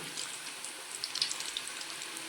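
Spinach pakoda (palak fritters) frying in hot oil over a low-to-medium gas flame: a steady, close, hissing sizzle with fine crackles and a few brief pops, continuous throughout and fairly quiet, with no talking.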